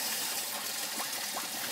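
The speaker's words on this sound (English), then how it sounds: "I'm putting water into the bypass, and it's coming out down there on the passenger side port" Water gushing out of a cooling system port on the passenger side of a Ford 351W engine as it is poured into the bypass, a steady, close rushing flow with no talk.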